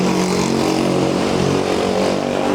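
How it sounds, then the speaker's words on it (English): Loud cars pass on a street in Osaka, their engines roaring continuously and close by with a dense, steady rumble throughout. "Damn, those cars are loud."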